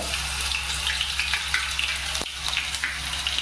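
Garlic sizzles in hot oil for a fish rassa, giving a close, bright, crackling hiss throughout with small pops and one brief dip partway through.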